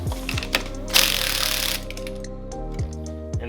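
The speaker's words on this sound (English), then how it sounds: "Now we need to remove this nut." A ratchet wrench works loose a 36 mm clutch nut on a Derbi Start 5 scooter, with bursts of rapid close clicking pawl strokes separated by brief pauses and a louder metallic rasp in the middle.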